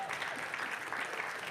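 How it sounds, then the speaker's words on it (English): Audience applause fills a spiritual center gathering, a steady wash of clapping from a sizable crowd that holds evenly at moderate loudness throughout, with no voices standing out. "give yourselves a round of applause"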